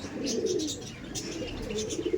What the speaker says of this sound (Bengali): অল ইন্ডিয়া খেলা প্রাইজ দেওয়া পায়রা